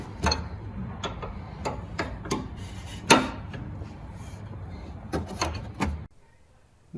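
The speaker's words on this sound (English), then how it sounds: "then I'm using an 18mm socket to take this bolt out" An 18mm socket wrench ratcheting a bolt out on a 2018-2020 Jeep Wrangler during suspension work, with irregular clicking ticks and a few metallic knocks at close range, ending in quiet.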